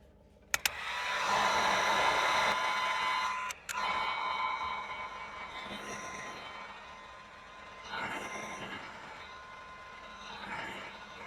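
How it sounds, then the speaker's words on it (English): A heat gun blows steadily on shrink wrap over 4AWG acoustic cable lugs outdoors in the cold, a continuous airy roar with brief clicks near the start and a short dropout, fairly loud and alone. "so we are using our heat gun."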